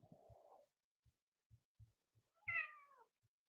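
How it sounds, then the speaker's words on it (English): A cat gives a short, low meow, then after a pause a louder rising-falling meow, faint and somewhat distant, with soft low thumps scattered between calls and no talk. "That sounded like a cat for anyone listening as well."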